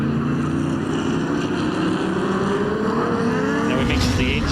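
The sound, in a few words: Formula 5000 race cars, Chevrolet 302 V8 engines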